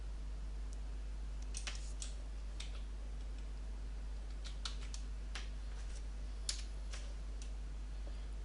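Computer keyboard being typed on, a sparse series of light, quiet key clicks spaced irregularly over a steady low hum.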